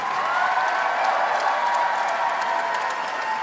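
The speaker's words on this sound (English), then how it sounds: "Another round of applause for Hassan Piker, everybody." Sustained applause from a large conference audience, steady and dense clapping with some crowd noise, no speech over it.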